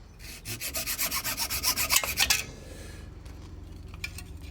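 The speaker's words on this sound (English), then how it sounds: "So let's cut into the 2 webs, and then I'm going to flip it over in the vise and finish it off underneath." Saw or blade cutting through the plastic webs of an Aprilia Caponord ignition coil part held in a vise: a quick run of about a dozen rhythmic rasping strokes, close and loud, then quieter handling noise.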